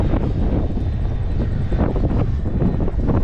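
Steady, heavy wind buffeting the microphone of a cyclist climbing a hill on a road in Crimea, a continuous low roar with gusty swells and no pauses.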